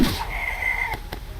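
Chickens clucking in the video game Holoearth: a short, steady tonal call of moderate loudness over a faint background hum, with no talking.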